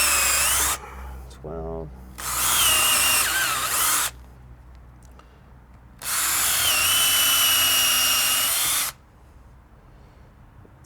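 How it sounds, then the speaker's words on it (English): A power drill bores holes into a log for growing shiitake mushrooms, running in three sustained high whining bursts, the last one longest, close and loud, with a short spoken count between bursts. "Okay, so I've drilled down one side of the log, or made one line of holes."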